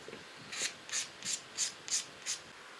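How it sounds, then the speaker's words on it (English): Six steady strokes of sandpaper rubbing on wood, evenly spaced and fairly quiet, a soft rasping back-and-forth with no voices. "the sanding is done on number 9 diagonals"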